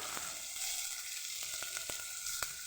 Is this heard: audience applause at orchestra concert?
no